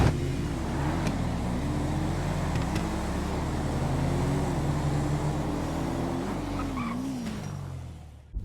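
GTA V drag race cars launching side by side off the line in a Street Outlaws style race, with a loud sustained engine roar that rises and falls through gear changes, then fades at the end.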